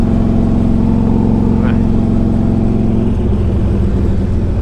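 A 2003 Harley-Davidson Electra Glide Ultra motorcycle is ridden at a steady pace, its engine giving a loud, continuous low drone that holds level throughout, with no speech.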